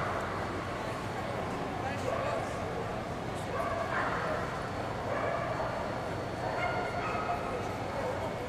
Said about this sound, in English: This is the Border Collie.